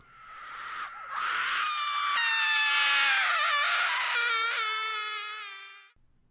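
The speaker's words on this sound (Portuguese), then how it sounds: "E outro grito foi ouvido." A long, piercing scream rings out at night near a campfire in a remote spot by a distant highway, rising and wavering for several seconds before cutting off, loud and close.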